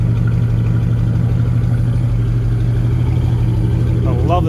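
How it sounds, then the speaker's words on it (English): A 1983 Chevrolet square body truck with dual exhaust idling, giving a steady, loud, low rumbling drone throughout, with a voice entering near the end. "I love the sound of this truck."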